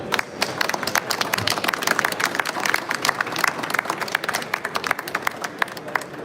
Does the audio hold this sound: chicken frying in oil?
no